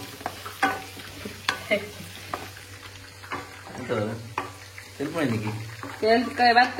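Soya chilli mixture is stirred in a pan with a spoon, giving a steady sizzle and intermittent scraping strokes, while someone talks over the cooking.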